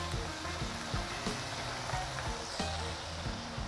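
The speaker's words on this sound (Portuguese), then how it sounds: "a preparação para o óleo para que possa ir fritando" Food frying in oil sizzles with a steady crackling hiss, overlaid with periodic low clatter of utensils and a few sharp taps.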